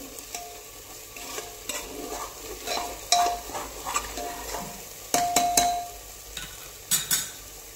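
Masala frying in oil for a Marathi chicken curry, with a spoon stirring and scraping the pan in short bursts over a steady close sizzle.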